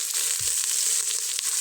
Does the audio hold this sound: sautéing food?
yes